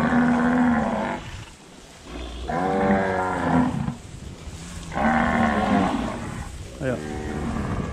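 Cattle in a pasture lowing in three long, loud moos with short gaps between, close by, with a faint human voice in the background.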